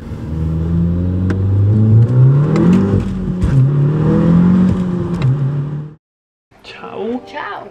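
A loud 370-horsepower car revs hard and close, its engine rising and falling through several sustained pulls before cutting off abruptly, followed by a brief quieter burst of engine sound.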